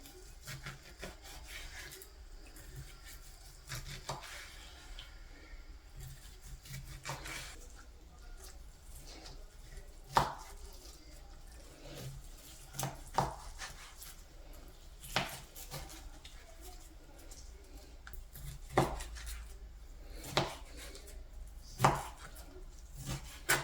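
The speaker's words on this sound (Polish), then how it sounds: "Boczek kroimy w drobną kostkę." Bacon is diced into small cubes with a knife on a cutting board, giving soft, irregular close chops and scraping strokes, with sharper knocks now and then over a quiet room background and no talk.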